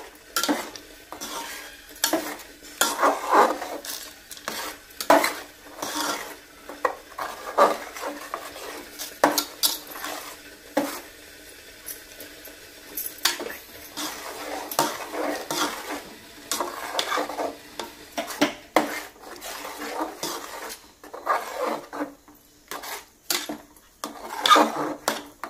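Peanuts being stirred into a boiling pot of cucumber batter for a Malvani-style Konkan dish, with repeated scraping and clinking of a utensil against the metal pot, moderately close and with no talk.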